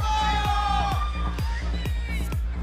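An esports crowd at a 2014 NA LCS League of Legends match cheers and whoops in a broad roar, while loud rhythmic thumps and music run through it and babble sits underneath.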